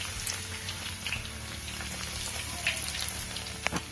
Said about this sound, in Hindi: तो हमें इस तरह से इसे गोल्डन ब्राउन होने तक के लिए तलना होगा।